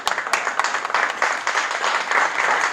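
A crowd of guests claps throughout a presidential dinner, sustained applause with slight swells and a few sharper claps near the start, no speech over it.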